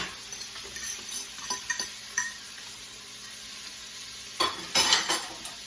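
Chopped Italian sausage and pork sizzle in a pan, with a steady frying hiss under scattered scrapes and clinks of a utensil stirring, growing louder in a couple of bursts near the end; no talking.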